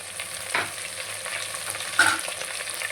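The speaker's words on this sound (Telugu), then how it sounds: "ఆనియన్ బాగా వేగాలన్నమాట" Onions frying in a pan for Telangana-style bagara rice, with a steady close sizzle and a couple of louder stirring bursts.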